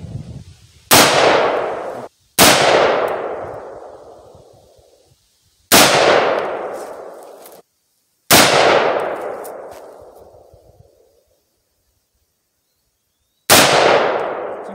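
Rifle shots, an AR-15 among them, ring off metal can targets at an outdoor shooting range: five sharp cracks, each followed by a long fading metallic ring, spaced a few seconds apart, with a longer silent gap before the last one.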